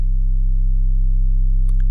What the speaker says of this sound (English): we're going to raise the level of the low pass gate so we can hear the DWG oscillator through the speakers